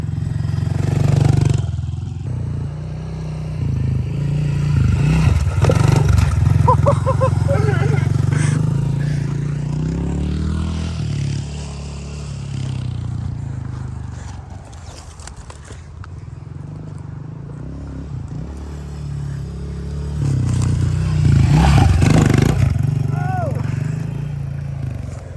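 A pit bike engine revs and buzzes on a street in rising and falling bursts, loudest near the start and end, with people's voices heard over it.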